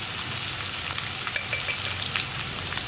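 Shallots sautéing in a pan with salt for a long bean and jackfruit seed stir-fry, a steady, fine crackling sizzle at moderate level with tiny pops scattered throughout.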